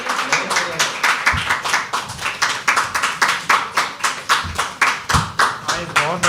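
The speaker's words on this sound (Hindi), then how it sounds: "सनी भाई के लिए जोरदार तालियां गाइस।" A small audience at a poetry open mic claps for a poet, producing dense, rhythmic applause with some steady unison clapping, close and lively throughout.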